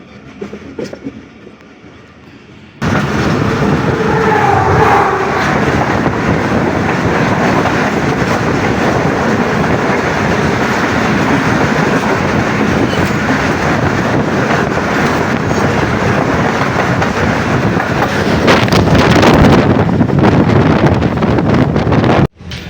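The Rehman Baba passenger train runs on a smoggy, foggy journey in Pakistan, with loud sustained rumbling and clattering wheels plus buffeting wind noise that begin abruptly after a quieter opening and carry on without letup.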